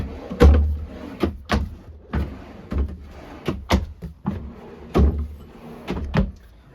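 Drawers in a 2023 inTech Sol Horizon Rover travel trailer being slid open and shut, a series of sharp, close knocks and thuds in an irregular rhythm, about a dozen impacts with quiet gaps between them.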